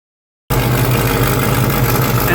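A 1936 Buick engine idles loudly and close by, with a steady low rumble and a puffing exhaust note from a long-leaking exhaust manifold; the sound starts abruptly after a brief silence and runs on without voices.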